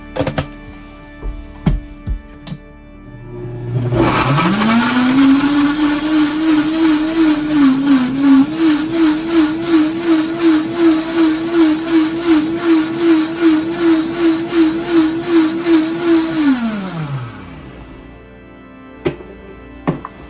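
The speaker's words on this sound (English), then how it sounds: "chop them up and put them in the blender and add a little bit water to it" A blender whirs to life, spins at a steady high pitch with a pulsing chop of ingredients for about twelve seconds, then winds down.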